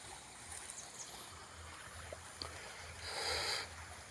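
A littered stream in Taglagtawan flows with a soft, continuous watery rush. Faint splashes sit over low rumbling, and a brighter gush swells briefly near the end.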